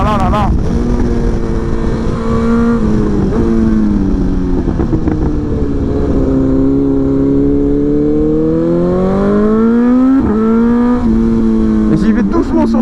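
A 2023 BMW S1000XR motorcycle engine pulls hard and loud from close up, its pitch rising and falling through repeated acceleration and gear changes under heavy wind rush, with a rider talking over it.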